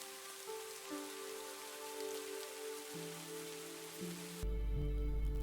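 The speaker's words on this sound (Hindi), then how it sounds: "सडनली बारिश शुरू हो गया था।" Night rain falls steadily in a dense, even patter beneath sustained musical tones. The downpour grows louder and fuller toward the end.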